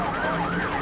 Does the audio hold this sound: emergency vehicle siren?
yes